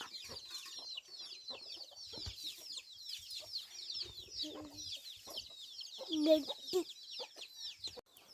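Chickens cluck softly and intermittently nearby, with a few louder squawks, while busy chirping birds fill the background.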